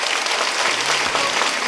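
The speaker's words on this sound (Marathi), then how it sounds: "वाजवणाऱ्या करता एकदा जोरात टाळी होऊ द्यावं" Audience at a Marathi kirtan claps loudly in a dense burst of applause, close and continuous for the whole short moment, with no speech over it.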